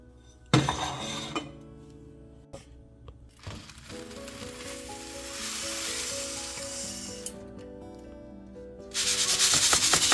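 Toor dal dry-roasting and being stirred in a pan, a scratchy rustling and scraping of lentils against metal with a few clinks, loudest at the start and swelling again near the end.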